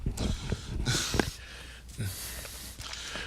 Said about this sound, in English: I swear this cough is trying to be Jennifer Holiday right now.